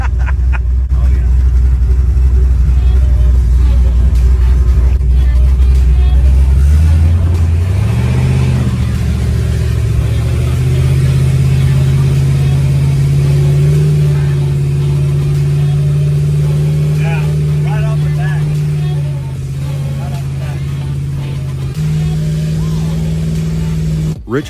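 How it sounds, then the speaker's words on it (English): A Chevy II powered by a Pro-Charged 427 LS engine, heard up close in a shop. A deep, loud idle climbs into a higher, sustained rev and holds steady with small rises in pitch, while people talk faintly underneath. "Chevy 2 is powered by a Pro-Charged 427 LS engine"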